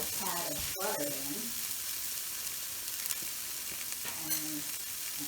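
Pork chops sizzle in butter and a little oil in a pan, a continuous close frying hiss broken by a few brief knocks and clatters near the start, with no voices.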